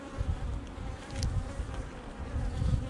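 Honey bees from a small lost swarm buzz steadily around an opened hive frame in October, a dense, close, continuous hum with no pauses and no voices.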